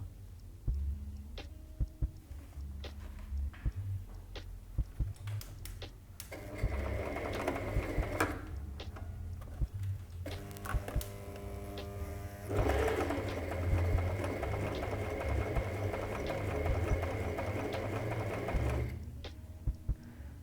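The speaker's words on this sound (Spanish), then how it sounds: "lo que vamos a hacer es pisar esta costura y nos va a quedar de esta forma" A sewing machine stitching a seam on a fabric pencil case, running in steady bursts with a rapid mechanical hum and clatter, close and fairly quiet, pausing briefly between runs.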